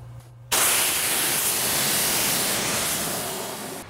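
A hose sprays water to rinse a cleaned car wheel and wheel well. After a brief quiet moment, a loud, steady rushing spray starts abruptly up close and carries on, fading slightly toward the end.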